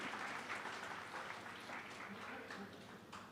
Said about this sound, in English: Can we have a round of applause for this wonderful panel?